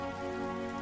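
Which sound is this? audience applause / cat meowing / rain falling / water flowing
rain falling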